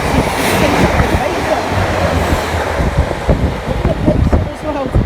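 A British Rail Class 150 diesel train pulls into the station at Moses Gate and Farnworth with a loud, steady rumble and rolling wheel noise that holds for the whole stretch.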